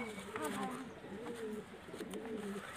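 Rampuri pigeons cooing in repeated soft throaty phrases, close by, with some faint background noise and no clear talk over them.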